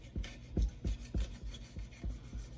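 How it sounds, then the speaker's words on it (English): A rubber spatula scrapes around the edges of a bundt cake pan in soft, regular rubbing strokes, each with a dull low thump, close and quiet at a steady rhythm. "I'm gonna use a rubber spatula to scrape the edges so it doesn't get stuck in our bunt pan."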